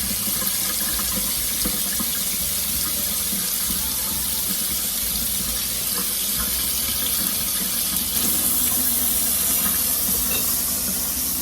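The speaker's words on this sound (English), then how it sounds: "it's kind of hard to hear over the water" Cold water runs steadily from a kitchen tap in a constant splashing hiss, growing slightly louder near the end, while rinsing homemade butter.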